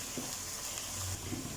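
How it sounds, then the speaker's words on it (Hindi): Chicken karahi ingredients frying in a pan, a steady close sizzle with faint bubbling and stirring, with no talking. "तो इनको हमने सही से फ्राई कर लिया, गोल्डन कलर आ चुका है"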